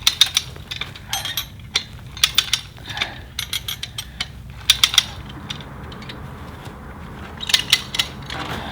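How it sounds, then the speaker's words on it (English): Bottle jacks cranked in bursts to lower a 4.5-ton wooden boat keel onto rollers, giving repeated ratcheting clicks and metallic mechanical clatter with a steady low rumble beneath, fairly close. "lower those bottle jacks and set it down on the rollers and see what happens"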